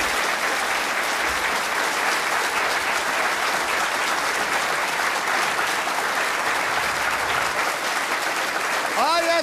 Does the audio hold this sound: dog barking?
no